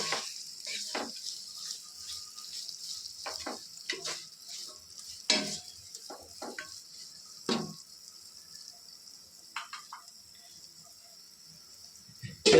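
Tomatoes and cashew nuts stir-frying in a pan give a faint hissing sizzle, with scattered soft scrapes and clinks of a utensil against the pan at irregular intervals.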